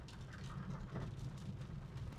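Heavy rain pours steadily in the hill country of Uttarakhand, a continuous, dense rushing patter with a low rumble underneath, fairly faint and with no voices.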